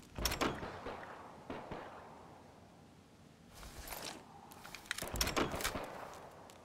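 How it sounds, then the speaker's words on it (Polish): Faint door thuds and knocks sound inside a house in the survival shooter H1Z1, several scattered clunks with quieter pauses between them. "Coś mi tu łazi, wiesz? Już jakieś drzwi."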